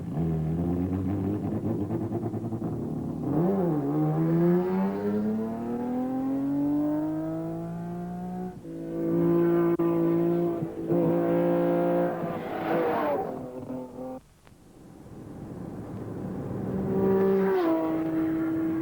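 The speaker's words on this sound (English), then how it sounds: "that's Tony Viana coming past us at 250 kilometers an hour" Modified saloon race cars from a 1986 Wesbank event scream past at high speed, engines rising and falling in pitch as several cars sweep by in turn, loud and close, with no talking.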